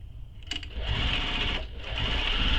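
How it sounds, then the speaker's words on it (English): Sewing machine base-stitching the connector of a bag, a steady close mechanical whir that starts up and holds a fast even rhythm throughout, with no talking. "Now we're going to base stitch this together,"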